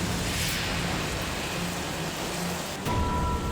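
Steady, heavy rain falls continuously during a flood in Luzon brought by a typhoon and monsoon rains, forming a dense, even hiss with no voices.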